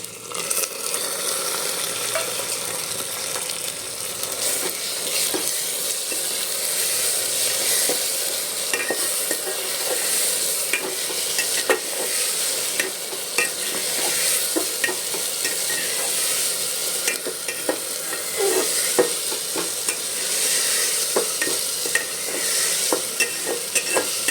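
Ginger-garlic paste frying with browned onions for a mutton curry, stirred steadily in the pan: a continuous loud sizzle broken by frequent scraping stir strokes, close and with no voices.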